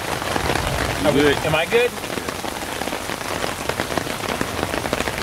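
Rain patters steadily on surfaces during a foggy morning hike in the Black Forest of Wisconsin, a continuous close wash of drops heard under brief conversation between hikers.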